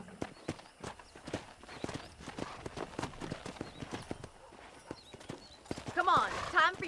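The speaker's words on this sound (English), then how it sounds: "let's see if you can still ride a horse" A horse galloping in the Western game Red Dead Redemption, a steady rapid clip-clop of hooves throughout with a whinny near the end, under frequent talk.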